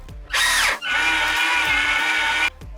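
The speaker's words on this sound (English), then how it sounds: "Drill and countersink so that we can put a screw through the angled piece into this flat piece behind." A power drill bores and countersinks into timber for a pocket screw on a van ceiling stud frame, a loud whirring burst that briefly dips, then runs steadily for about two seconds before stopping.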